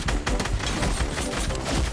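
Gunfire in Fortnite crackles in rapid, dense bursts of shots that blur into a loud, continuous barrage throughout.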